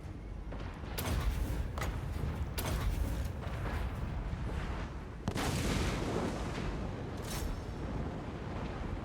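Cannons firing in a Total War Warhammer 2 battle with the SFO Grimhammer II mod, played as Luthor Harkon: about four heavy booming blasts, loud and close, over a constant rumbling battle din.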